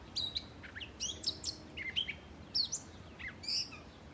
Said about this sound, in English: if you are a birder, you know that that is a mockingbird